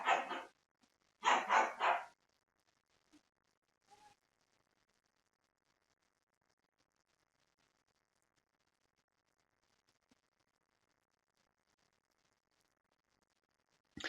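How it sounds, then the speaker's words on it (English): Dogs bark in a few short, sharp bursts near the start, then go quiet with only faint scattered noises, and one more brief bark at the very end. "sorry about the dogs."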